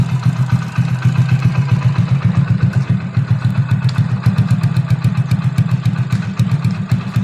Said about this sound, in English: what the exhaust sounds like